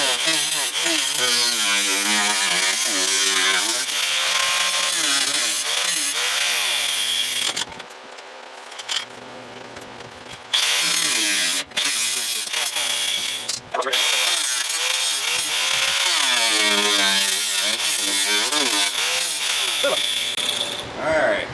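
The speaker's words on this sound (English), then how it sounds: "let me change my wheel on my grinder and we'll cut that off." An angle grinder fitted with a fresh wheel cuts metal off a car body being fitted over an engine, a loud sustained whine with brief drops and restarts partway through.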